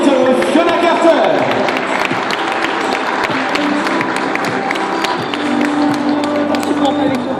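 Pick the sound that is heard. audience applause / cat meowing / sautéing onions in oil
audience applause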